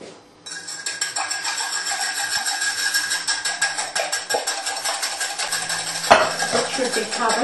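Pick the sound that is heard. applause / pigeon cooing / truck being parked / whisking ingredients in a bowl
whisking ingredients in a bowl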